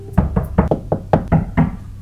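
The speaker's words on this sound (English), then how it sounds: "Knock on wood," Knuckles rap on wood about eight times in an uneven rhythm, each knock sharp, close and loud, with nobody talking.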